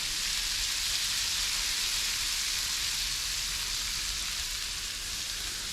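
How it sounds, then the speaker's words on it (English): Melted butter sizzles on a hot griddle, a steady bright hiss of frying that continues evenly throughout without any talking. "You can hear that sizzle."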